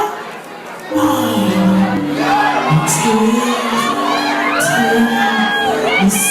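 A large adoring crowd cheers, whoops and shouts at a concert, a dense roar swelling just after the start and holding steady, with high excited yells and a sung voice rising above the din.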